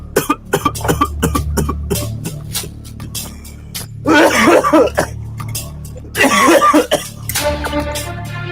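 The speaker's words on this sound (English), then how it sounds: "That was my cough." Someone coughs repeatedly and loudly up close, with a rapid run of sharp coughs followed by two longer, harsh rasping fits and throat clearing.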